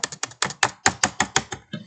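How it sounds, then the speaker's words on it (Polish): Ten sharp keyboard clicks in a steady rhythm, close and fairly loud, each a crisp tap of a large key, with no talking. "Patrzcie, klikam spację."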